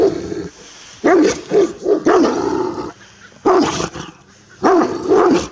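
A Romanian Raven Shepherd dog barks in loud, repeated bursts of deep barks, alone and close by, with short pauses between the volleys.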